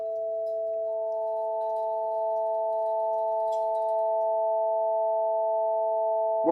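A steady pure sine tone hums alone, then a higher harmonic joins in, giving it a thinner, reedy, nasal colour.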